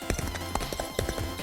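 A giant armored horse gallops in a quick run of clip-clopping hoof beats, brief and fairly faint, with light knocking taps in a steady rhythm.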